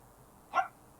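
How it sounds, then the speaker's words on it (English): A single short dog bark sounds from the background of a quiet indoor room, brief and moderately loud against faint room noise. "my dog's barking in the back"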